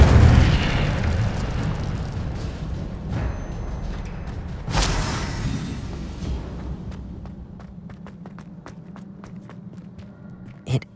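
Fire spell cast in Hogwarts Legacy on Xbox Series X: a loud burst of flame opens the moment, followed by a second whooshing blast midway, with scattered game effects and footsteps trailing off; no speech.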